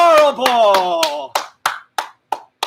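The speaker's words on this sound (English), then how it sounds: "Clapping." Hands clap in a gentle seated chair exercise class for Parkinson's, a steady run of about ten sharp, close claps, the first several overlapped by a sung or spoken voice, the rest alone and evenly spaced.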